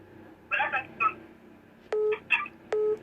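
A telephone call being placed, with short bursts of dialing tones and sharp electronic beeps heard close, alongside faint voices.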